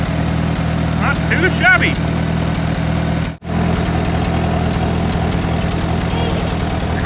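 A 1950 Allis-Chalmers B farm tractor engine idles with a steady low, throbbing chug close by while someone speaks briefly over it.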